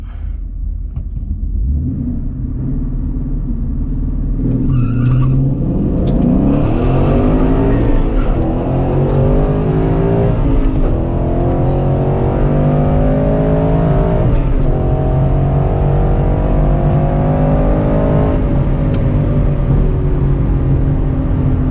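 A Ford Mustang GT with a Coyote engine launches in a drag race, its loud engine rumbling at idle before revving hard and pulling through rising gears, with brief drops at each shift, heard from inside the car.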